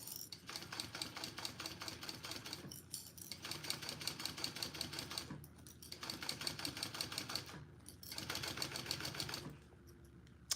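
A home sewing machine runs in three steady bursts with short pauses between them, stitching along the raw edge of a fabric clutch wallet, its rapid needle chatter close and even.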